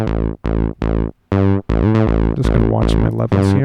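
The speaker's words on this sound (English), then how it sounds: "And here we have a global distortion, which is applied to the entire audio signal." Analog global distortion from a DSI Pro 2 synthesizer used as an effects unit on external audio, loud buzzy sustained tones in short separated stabs that run into a denser, overlapping phrase, harsh and saturated throughout.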